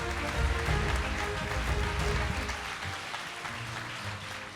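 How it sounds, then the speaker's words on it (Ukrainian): A crowd at a Global Teacher Prize Ukraine award ceremony applauds to welcome the first lady onto the stage, with thick, continuous clapping at moderate loudness that holds steady and eases slightly toward the end. "Ваші оплески, будь ласка, перша леді України."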